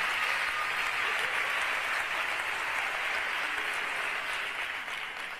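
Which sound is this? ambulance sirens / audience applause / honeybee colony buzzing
audience applause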